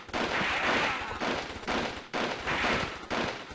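Rapid bursts of gunfire from the Army Men video game, loud and close, come in three sustained volleys separated by brief gaps.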